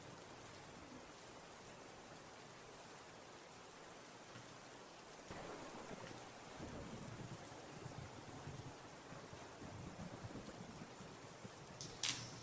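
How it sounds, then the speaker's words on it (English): Recorded thunderstorm sounds play back: steady, soft hiss of heavy rain throughout, with a low distant rumble of thunder building midway and continuing under the rain. "I'm playing the storm sounds, Amy Jo, to relax and brainwash everybody."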